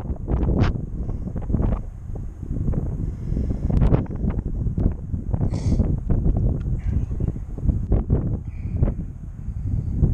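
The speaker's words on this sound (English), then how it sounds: "there's a pretty good headwind" Strong headwind buffets the microphone in gusty, low rumbling blasts, loud and continuous with no talk.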